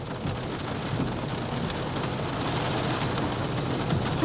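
Rain falls steadily on a Kia Stinger Meister 2.5T AWD during a test drive, a continuous dense patter heard from inside the car, alone and unbroken for the whole stretch.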